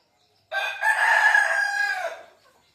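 A desi chicken gives a single loud, close, drawn-out rooster-like crow lasting about a second and a half against a quiet backdrop, from a home-raised native flock.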